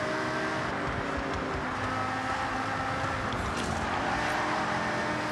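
Ford GT engine roaring in the Forza Horizon 6 racing game, a steady loud drone with continuous broadband road and motor noise throughout, no pauses.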